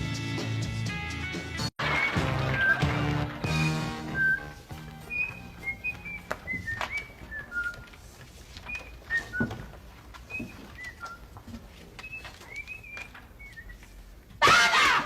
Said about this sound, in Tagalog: Huwag kang sumisipol habang nag-aaral!